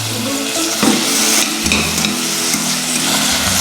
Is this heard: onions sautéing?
yes